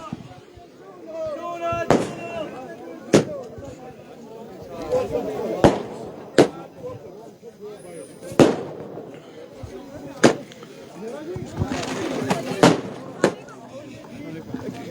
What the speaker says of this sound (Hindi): पटाखों की बारिश यहां पे बीजेपी के हेडक्वार्टर के सामने